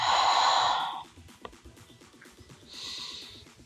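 Loud breath drawn in and let out during a foam roller floor exercise for pelvic floor and posture, a long airy exhale followed by a quieter second breath after a pause.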